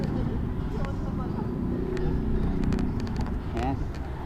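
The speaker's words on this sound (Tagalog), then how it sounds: "Mga motor oh, daming motor oh." Many motorcycles from rescue and rider groups gather in a 2022 civic parade near a grandstand, their engines making a steady low rumble that runs throughout, mixed with crowd chatter and voices nearby.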